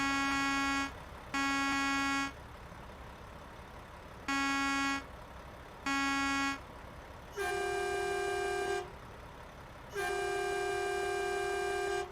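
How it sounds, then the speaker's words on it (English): A Mack Anthem truck horn honks repeatedly: four short blasts, then two longer, deeper sustained toots, loud and close with silent gaps between. "There's the normal vehicle horn."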